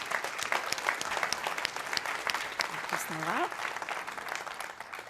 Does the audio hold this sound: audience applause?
yes